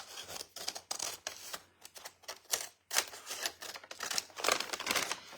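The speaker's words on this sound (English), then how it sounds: "I'm going to go ahead and cut this just so I can know where my edges are" Recycled craft material is cut up close in a quick, irregular run of crisp snipping and crunching bursts, loud and dry with brief gaps and no talking.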